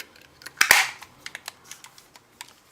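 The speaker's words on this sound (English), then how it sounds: "you might be able to hear the pin pierce the cartridge" Piercing pin of a Beretta 92FS CO2 pistol puncturing the gas cartridge: a sharp click and short hiss burst up close, followed by a scatter of small metallic ticks and clicks, with no talking.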